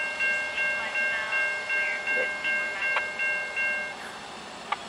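A switcher locomotive works a local rail line, sounding as a rhythmic series of rolling wheel thumps with sustained squealing tones and a brief sharp clank near the end, heard from moderate distance.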